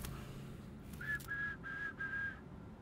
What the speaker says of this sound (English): Sorry, I shouldn't be whistling.